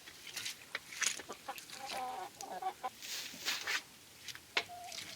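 A backyard flock of chickens clucks and murmurs nearby, with a rooster among them and a new hen added, soft irregular clucks and short calls rising and falling at moderate loudness, with no talk.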